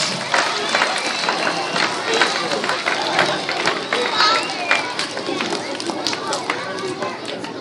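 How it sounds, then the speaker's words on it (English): A school assembly audience claps and cheers steadily and loudly throughout, a dense crowd noise of many hands and raised voices. "So give yourselves a round of applause."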